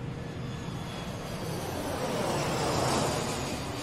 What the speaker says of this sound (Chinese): 几个小时之后，飞机在香港国际机场降落